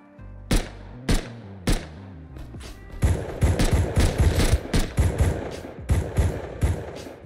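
Pistol gunfire in the video game Rust, a few spaced single shots with ringing tails followed by a fast, loud run of repeated cracks and thuds.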